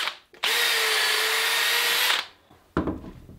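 A power drill whines at a steady high pitch for about two seconds while drilling wood, then stops; a short scraping, rubbing burst follows shortly after.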